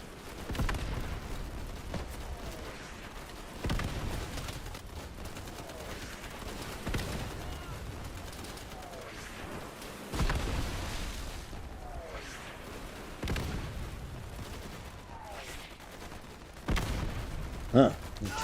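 Gunfire in the video game Easy Red 2: repeated sharp shots and bursts crack at irregular intervals over about eighteen seconds, some near and loud, others more distant, with voices talking between them.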